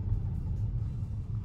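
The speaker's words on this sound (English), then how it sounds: "So here we are, braking. Slowing down." Tesla Model S P100D braking and slowing down on the road, heard from inside the car as a low, steady rumble of road and motor noise.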